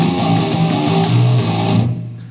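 A heavy, distorted electric guitar rings out fully open with no palm muting, playing a riff. Loud, dense chugging notes carry for about two seconds, then cut off into quiet.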